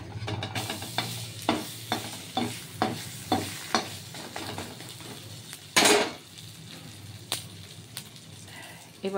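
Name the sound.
aloo paratha frying in butter, stirred in a pan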